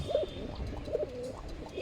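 A male Mushal Dom pigeon coos softly in short repeated throaty phrases, close by, over a low background rumble.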